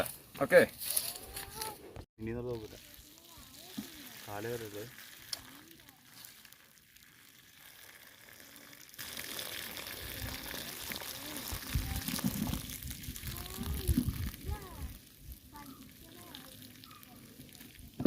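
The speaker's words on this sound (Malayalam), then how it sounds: "അതിന് വെള്ളം ഊറ്റി കളയണം കേട്ടോ" Water is drained off a pot of boiled tapioca, cooked for a sardine dish. Speech comes first, then a steady, close splashing pour fills the second half.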